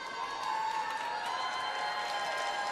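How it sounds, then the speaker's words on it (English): A distant arena crowd at a curling world championship match between Russia and the USA cheers and applauds steadily, faint and even under a constant tonal hum of the hall. "Some last minute cheers from the crowd."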